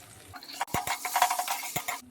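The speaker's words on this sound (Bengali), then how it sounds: "সামান্য একটু হলুদ আর কাশ্মীরি লঙ্কার গুঁড়ো দিয়ে ভালো করে এটাকে নাড়াচাড়া করে নেব" A spoon stirs turmeric and Kashmiri chili powder through the contents of a pan in a few quick scrapes and knocks, with a faint sizzle between them.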